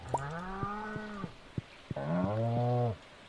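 Cows in the farming game Stardew Valley moo twice, a longer low call followed by a second rising one, close and clear with a few soft clicks between and no talk.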